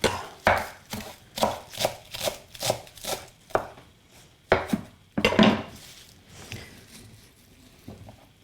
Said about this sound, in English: And some parsley. Bit of a rough chop.